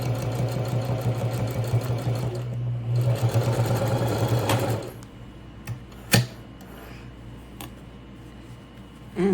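A sewing machine back stitching on a toiletry pouch runs with a steady, loud mechanical whir for several seconds, then stops, leaving a few faint clicks and a single sharp knock in the quiet.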